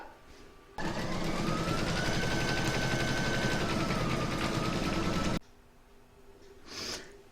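An embroidery machine stitches a quilting round across a towel topper, a steady, loud, rapid mechanical rattle running continuously for several seconds and stopping abruptly, with quiet room noise before and after.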